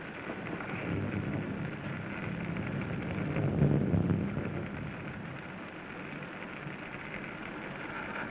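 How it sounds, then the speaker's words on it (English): Steady rain pours through an old 1941 horror film soundtrack, a continuous hiss with a low thunder rumble swelling midway before settling back into the downpour. "It's raining."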